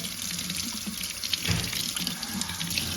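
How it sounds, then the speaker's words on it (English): Potatoes being washed and scrubbed by hand under a running kitchen tap, a steady close splash of flowing water with slight shifts as the potatoes are handled, no talking. "wash it, scrub it all clean."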